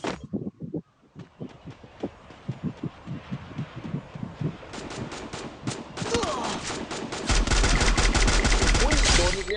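Gunfire rings out in a Free Fire match, with rapid bursts of shots close and loud, building into dense continuous automatic fire toward the end, alongside game effects and no clear talk.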